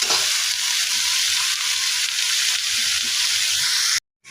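Continuous hissing sizzle of salted bottle gourd pieces cooking in a pan on low heat, steady and close, with faint stirring, ending abruptly in silence.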